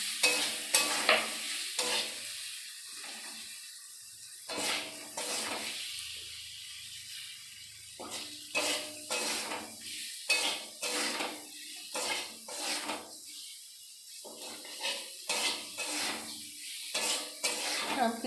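Potatoes and onions fry in a pan for a fish curry, giving a soft sizzle broken by repeated scrapes and knocks of a utensil against the pan.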